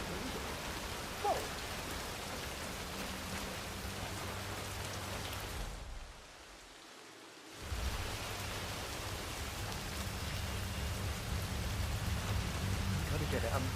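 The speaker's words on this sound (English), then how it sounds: "I'm never going out in the rain again." Steady rain pours in the rainy streets of Chongqing in Hitman 3, a dense continuous hiss that briefly drops away for about a second before resuming just as heavy.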